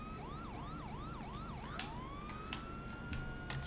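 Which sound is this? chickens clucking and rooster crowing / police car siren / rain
police car siren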